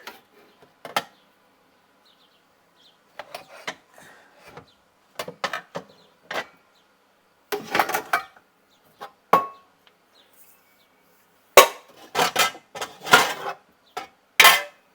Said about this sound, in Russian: шумно, когда я достаю крышки или кастрюльки